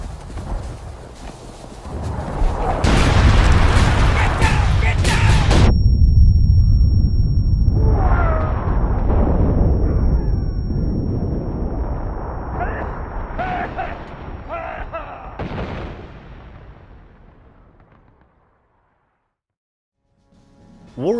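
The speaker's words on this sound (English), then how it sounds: "Forward! Incoming artillery!" Artillery explosions in War of Rights, an American Civil War first-person shooter set in the Maryland campaign: loud, heavy booming blasts with rumbling tails and battlefield chaos over several seconds, then fading to near silence.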